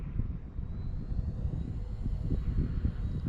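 An FMS PA-18 Super Cub 1300mm RC model airplane coming in to land on a club runway, its electric motor a steady, close buzzing drone that holds on throughout with no talk.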